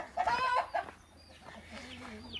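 Chickens on a farm clucking close by, a few quick bursts of clucks at the start followed by quieter low murmuring clucks, with no talk.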